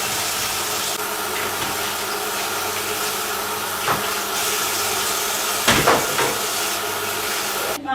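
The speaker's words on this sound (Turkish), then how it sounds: "Burada işte böyle bulaşıklarımı yıkıyorum." Steady broadband rush of running water with occasional clinks and knocks of dishes being handled, continuous and close, no voices.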